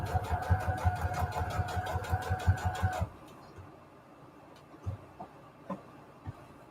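A sewing machine stitches fabric scraps onto a paper tag in a fast, even, close whirring rhythm for about three seconds, then stops, leaving a few soft handling clicks and thumps.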